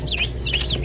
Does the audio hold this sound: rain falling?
no